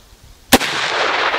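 A single sharp, loud gunshot from a Winchester 1895 Russian musket fired outdoors at a jug target, with a long rolling echo trailing after it.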